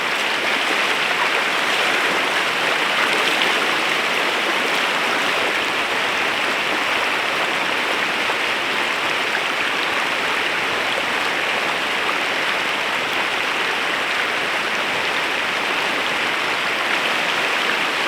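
A river flooded by heavy rain rushes in a dense, continuous roar with rain hissing over it, steady and loud throughout with no voices.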